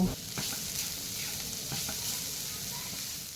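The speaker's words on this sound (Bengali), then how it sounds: "আগে থেকে গ্রেট করে জল ঝরিয়ে রাখা ফুলকপিগুলো দিয়ে ভালো করে নাড়াচাড়া করে একটু ভাজা ভাজা করে নেব" Grated, drained cauliflower is stir-fried in a pan for a paratha filling, making a close, steady sizzle with soft stirring rustles and no talk.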